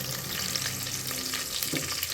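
Mustard seeds, curry leaves, garlic and onion sizzle in hot oil for a tempering, a constant close crackle with occasional stirring scrapes and no voices.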